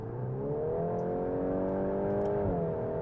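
A 2025 VW Golf with an Akrapovic sports exhaust revs with a rising, smooth drone, holding a strong tone before easing off slightly near the end.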